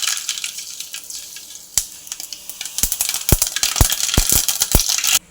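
Mustard seeds crackle and pop in hot oil in a pan for a fish pickle: a soft sizzle builds into a rapid string of sharp, close pops and snaps that thicken toward the end, with no talking.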